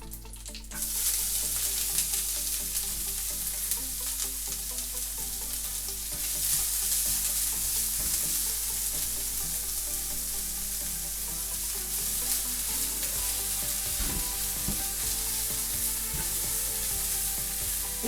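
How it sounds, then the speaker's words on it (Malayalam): Finely chopped onion fries in melted butter in a pan for a bolognese sauce, giving a steady, loud sizzle that holds evenly throughout with no talking. "ബട്ടർ ഒന്ന് മെൽറ്റ് തുടങ്ങുമ്പോഴത്തേക്കും നമുക്ക് സവാള ഇട്ട് കൊടുക്കാം."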